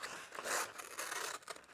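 A dull kitchen knife drags and scrapes through a sheet of paper, producing a few short, close, papery rasps and crinkles with brief gaps between them.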